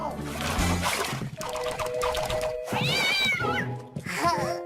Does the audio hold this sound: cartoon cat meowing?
yes